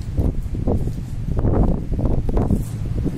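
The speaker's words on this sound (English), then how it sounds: "You can hear the wind blowing through there." Wind gusting through the ruins of an old stone castle building, a low rushing roar that swells and eases in waves, loud and buffeting against the microphone with a faint rustle on top and no talking.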